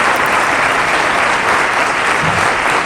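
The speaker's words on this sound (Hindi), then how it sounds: "आइए सब मिलकर भरपूर तालियां बजाकर खराज तहसीन पेश करें उनकी इन तमाम रूहानी खिदमात के लिए" A memorial service audience breaks into loud, sustained applause, a steady dense roar of many hands clapping with no pauses and no voices over it.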